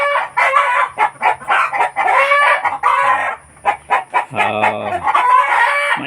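Muscovy ducks and chickens on a livestock farm call loudly and hungrily, with rooster-like crowing and clucking in dense, overlapping bursts close by.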